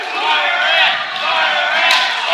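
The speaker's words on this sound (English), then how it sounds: "Crowd getting firmly behind Fire Ant here." A wrestling crowd at a 2016 TRUE Wrestling show roars and chants in support of a wrestler, a dense, steady wash of many voices that swells slightly and stays loud throughout.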